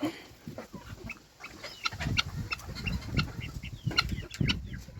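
Chickens chase a beetle in a farmyard, clucking in short bursts. Wings flap and they scuffle nearby, loud and close, with no talk.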